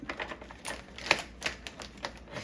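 A built-in sliding cutter on a Raycial vacuum sealer runs across a plastic sealer bag, making a quick run of sharp, close clicks and ticks, with no one talking.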